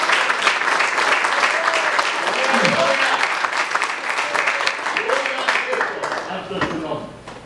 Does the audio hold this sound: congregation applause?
yes